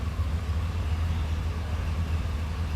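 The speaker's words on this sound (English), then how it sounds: "The idle's actually better when it's in gear with a little bit of load on it." A 1975 Pontiac Grand Ville Brougham's engine idles in gear under slight load, a steady low rumble with a faint shimmy, close and continuous with no talk.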